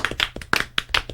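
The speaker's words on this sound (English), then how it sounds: "Slow clap for Kinsey." A few slow, distinct hand claps spaced evenly apart, close and fairly quiet, in a room at a parent-teacher conference.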